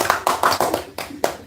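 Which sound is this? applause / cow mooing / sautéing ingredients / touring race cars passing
applause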